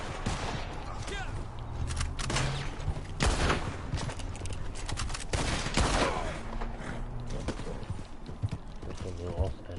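Scattered gunshots in the Red Dead Online western game set in New Austin, popping intermittently over hoofbeats and ambient game noise while a voice talks throughout.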